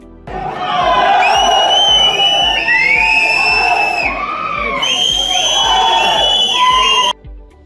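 A packed theater crowd at the release of the film Devil roars and cheers continuously, loud and close, with whistles and shouts rising over the steady din until it cuts off abruptly.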